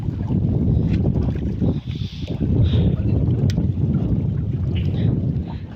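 Strong, cold north wind blows at night during village fishing in stormy rain, roaring continuously in a heavy low buffeting rumble across the microphone with a brief dip partway through.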